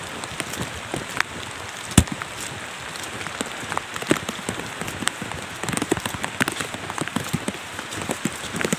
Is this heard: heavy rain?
yes